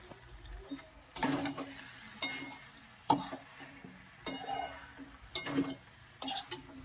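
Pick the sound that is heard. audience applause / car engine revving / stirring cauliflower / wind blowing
stirring cauliflower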